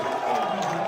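A crowd cheers loudly and steadily as Boise State football learns it has earned the No. 3 seed in the College Football Playoff, with a dense wash of voices throughout and no single talker standing out.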